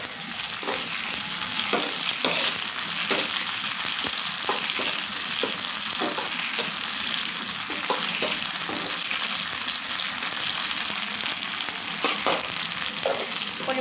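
Mashed banana stem with ginger and cumin paste fries in a pan, a steady close sizzle broken by the scrape and clack of a spatula stirring every second or so, with no voices.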